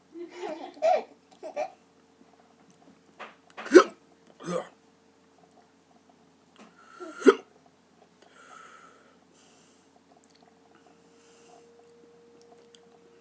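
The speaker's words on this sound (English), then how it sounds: "hiccup time. Haven't had those in a while from a pepper" Repeated hiccups brought on by eating a Red Cherry Belle chili pepper come as sharp, close little gulps spaced a second or more apart, mixed with some laughter and voices, with quiet stretches between them.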